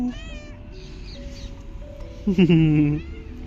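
A cat meows once loudly and close by, a rising then falling harmonic call near the end, following quieter background sounds in an indoor room.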